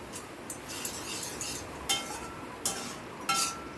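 A spoon scraping and clinking against a pan as spices are stirred and fried in a little oil for a pumpkin dish, with a few sharper metallic knocks over a faint, steady sizzle.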